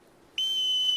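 A sharp whistle blast starts suddenly and holds a steady, piercing tone, loud and close after a moment of near silence.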